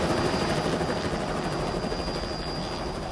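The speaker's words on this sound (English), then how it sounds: "even as the helicopter lifted off." A rescue helicopter lifting off, its rotor thumps and engine roar steady and loud close by, a continuous churning drone with no voices.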